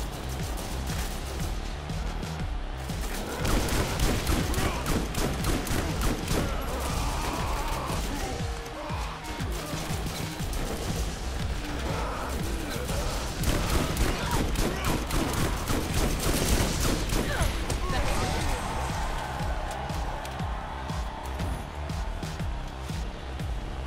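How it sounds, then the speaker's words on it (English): Sustained gunfire in the video game Borderlands: dense, rapid shots and bursts fill the whole stretch at a steady loud level, with game effects layered underneath. "I'm going to shoot things with this gun."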